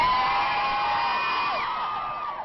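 A big crowd waiting at the Sydney Opera House cheers and whoops for the visiting Duke and Duchess, a steady dense roar with high shouts and whistles that holds loud throughout before easing slightly at the end.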